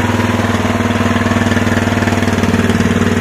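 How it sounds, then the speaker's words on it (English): A small carbureted motorcycle engine with a Keihin CVK carburetor idles on choke, steady with a fast, even, pulsing chug, close and loud, running alone without speech. "And now it's idling on its own. The choke is on."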